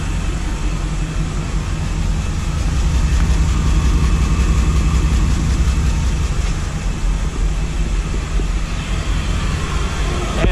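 A freshly built 1955 Chevrolet Nomad with an LS3 V8 runs on its first start, exhaust exiting at the side, producing a steady, loud, low rumble that holds evenly throughout without speech.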